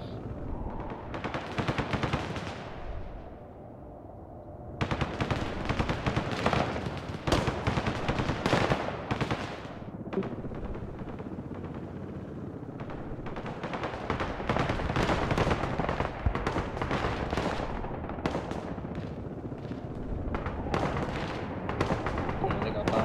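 Bombs and gunfire in the real-time war strategy game Broken Arrow form a dense, continuous roar of blasts and shooting, with a voice talking over the fighting.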